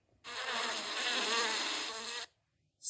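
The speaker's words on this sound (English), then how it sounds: "Bee." A bee buzzes loudly and steadily at close range for about two seconds, then cuts off abruptly, with no other sound around it.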